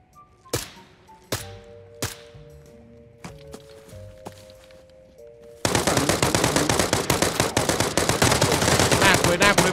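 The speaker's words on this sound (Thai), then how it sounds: "ใครยิง มันเก็บเสียง มันยิงเหรอ" Video game gunfire: a few sharp isolated shots with ringing tones at first, then a dense, sustained burst of rapid automatic fire filling the second half, loud and close.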